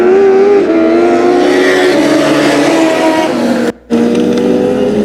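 Race cars roar around the oval at 281 Speedway, loud sustained engine drone with shifting pitch as cars pass, continuous and close, with a brief dropout near the end.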